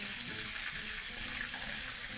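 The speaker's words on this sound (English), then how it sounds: "proceed to move your vegetables into your strainer." Boiling water and cooked vegetables, including carrots, pour from a pot into a kitchen strainer, making a steady, even rush of splashing water for a couple of seconds with no talk.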